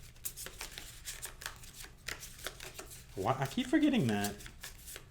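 A deck of cards shuffled during a solo tabletop game of Solomon Kane, a short riffle-and-bridge burst near the mic after quiet talk, with a person speaking over it.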